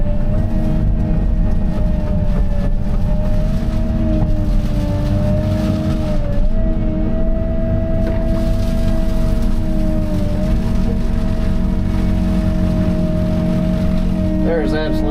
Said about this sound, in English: This excavator has got way more cutter power.